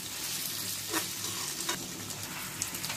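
Chicken frying in a pan for Bengali chicken and potato curry, a soft steady sizzle broken by a few stirring scrapes, close and alone.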